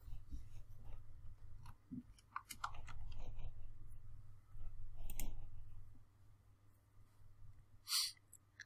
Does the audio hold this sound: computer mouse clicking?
yes